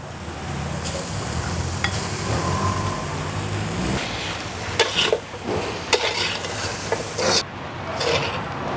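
Vegetarian Thai fried rice with salted flower salt and vegetables tossed and stirred in a pan over medium heat, a steady soft sizzle with scraping stir strokes and occasional clanks, no talking.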